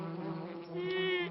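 A cartoon bee buzzes steadily while gathering nectar from a flower, a close, continuous insect drone that swells slightly louder toward the end, with no talking.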